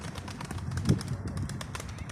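Caged pigeons being let out, bursting into flight: a quick series of flapping wingbeats with soft coos, close and fairly loud, with no voices.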